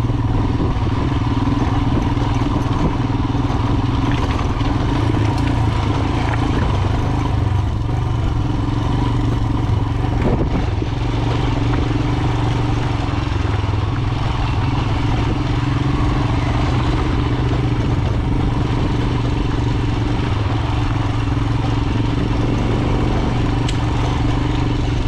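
Royal Enfield Himalayan motorcycle chugging steadily uphill in second gear on a Colorado mountain pass, a loud, even single-cylinder thrum that carries on without a break.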